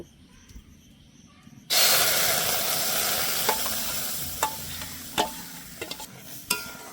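Mango pulp hits a hot pan and bursts into a loud, close sizzle that slowly fades, with several scraping stirs of a spoon punctuating the bubbling hiss; faint background noise precedes it.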